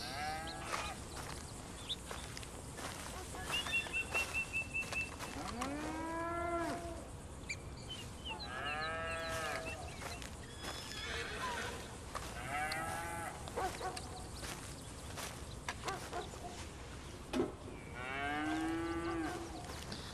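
Cattle moo repeatedly on a ranch in the video game Red Dead Redemption 2, several drawn-out lowing calls spaced through a quiet stretch, with softer sheep-like bleats mixed in among them.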